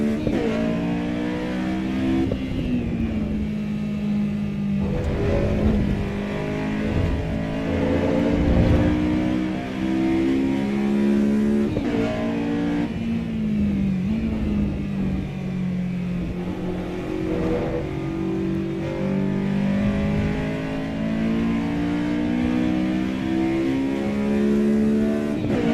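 Race car engines in Assetto Corsa Evo drone and rev steadily for the whole stretch, a dense layered engine roar with rising and falling pitch as cars run in a line, loud and continuous with no talk.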